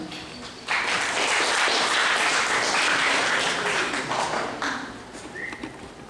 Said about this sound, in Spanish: al cual le damos fuertes aplausos.